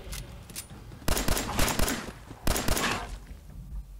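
Fallout 4 gunfire erupts in two loud, close bursts of rapid shots with rattling reports, separated by a brief quieter gap and trailing off at the end.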